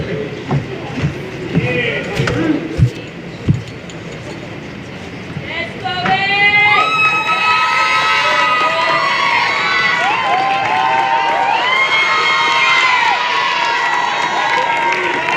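An indoor awards crowd cheers and shouts for Golden Circle inductees, a sustained roar of voices with whistles and yells building after a few seconds of scattered talk and claps.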